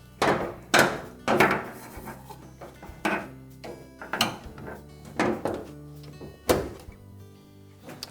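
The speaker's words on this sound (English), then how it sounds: "And now we'll just mount our board and its holder into place" A dryer relay board and its plastic holder being fitted into place by hand, with about a dozen close, irregular knocks and clunks separated by light scraping and rubbing.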